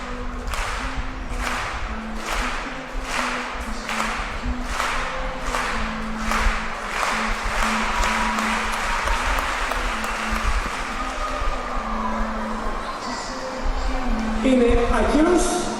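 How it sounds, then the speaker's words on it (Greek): Spectators at an international athletics meeting in Cyprus clap in a steady rhythmic beat for a South African long jumper, a loud sustained crowd clap lasting many seconds while an announcer talks over it. "Θέλει το δικό σας χειροκρότημα"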